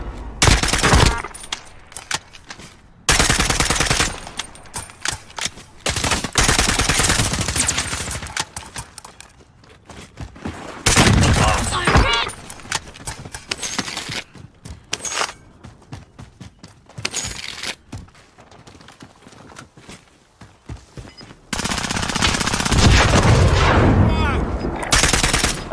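Bursts of automatic gunfire in Call of Duty: Warzone, loud and close, coming in separate volleys with short gaps between them and a long sustained burst near the end.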